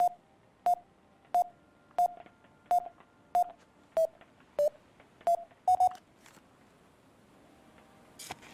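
A metal detector passing over a buried fencing bolt gives a series of short, evenly spaced electronic beeps, about ten in a row, then quiets, with a brief louder burst at the end.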